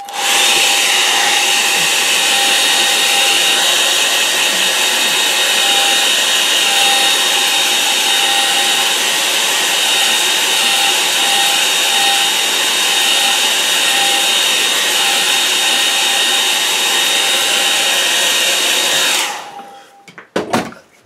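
A hair dryer blows steadily and loudly for a long stretch with a constant whine, then cuts off abruptly near the end.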